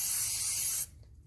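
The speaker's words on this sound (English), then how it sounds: "So what I'm going to do first is spray my IPA onto my ACM" IPA cleaner sprayed onto an ACM substrate in one steady hissing burst lasting under a second, close and clear, then cut off into quiet.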